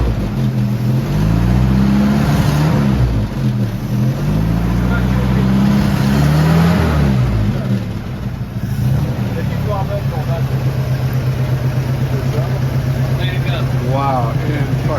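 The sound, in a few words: 1950s Jeep engine running and revving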